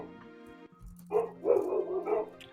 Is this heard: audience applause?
no